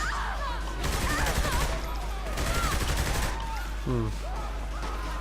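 Rapid bursts of automatic gunfire from a submachine gun and pistols in the open-world video game Saints Row the Third, two loud volleys separated by brief pauses, with a short voice-like cry near the end.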